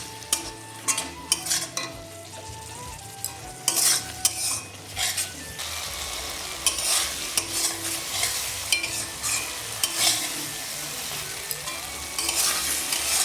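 Ground cumin paste and spices frying in oil for a sea-fish curry, with a steady sizzle under repeated scraping and clattering of a spatula against the pan, close and moderately loud, with no speech.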